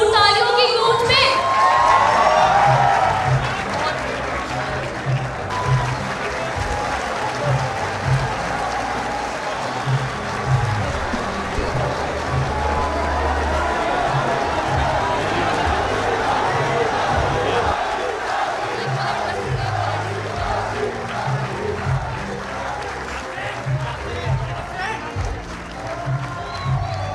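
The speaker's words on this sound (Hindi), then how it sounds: "आपकी भरपूर तालियों की गूंज में।" Audience applause and cheering at a live poetry recital, a loud burst of clapping and shouts that keeps rolling on at a steady level with voices mixed in.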